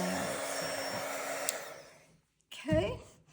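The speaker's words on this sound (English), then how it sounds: "Use a hair dryer." A hair dryer blows steadily on wet paint for about two seconds, a loud continuous whir that cuts off, followed by a brief voice after a short pause.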